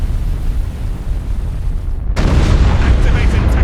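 In the Battlefleet Gothic: Armada video game, a bombers' strike lands as a sudden heavy explosive burst midway, following a low rumbling drone and giving way to sustained loud crackling roar.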